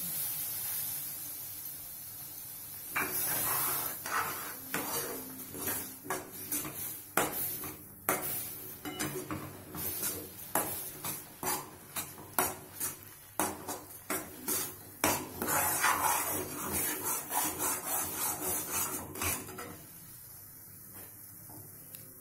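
Semolina stirred and roasted in a pan for manda pitha, a spoon scraping and clinking against the metal in quick repeated strokes, loud and close, with a soft hiss underneath.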